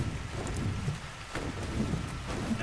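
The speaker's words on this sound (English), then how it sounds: "There's some rain." Rain and thunder in the video game ARK: Survival Evolved, a dense steady downpour layered over low rumbling thunder, loud and continuous with no talk.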